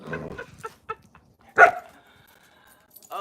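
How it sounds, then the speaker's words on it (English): Dogs barking nearby in a home, a few sharp barks in quick succession, one loud, with quieter yips and gaps between, no talking. "And there's too many dogs where I'm at."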